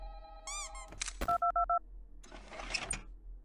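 A game telephone in Five Nights at Candy's 2 gives a rising chirp, then a run of short electronic dial-style beeps, followed by a softer squeaky flurry, all close and clear.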